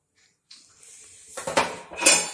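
Milk goes into a warm pan for malai sandesh, with a short run of metallic clinks and scrapes of a spoon against the pan building to a few louder knocks, close by and without talk.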